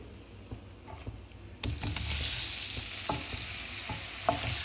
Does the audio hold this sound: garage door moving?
no